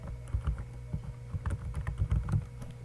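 Quick, irregular keystrokes on a computer keyboard as C code is typed in Turbo C++. Soft, close clacks come in short bursts with no speech.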